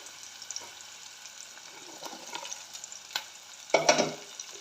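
Onions sizzle softly in a pan for a dried fish curry with tamarind leaves, a faint low fry broken by light stirring scrapes and a louder clatter of the spoon near the end.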